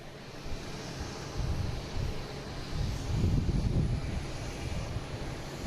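An Air France Airbus A350-900 jet at Boston Logan airport, heard as a loud, steady, low-pitched engine roar with swelling rumble and some wind buffeting, no voices present.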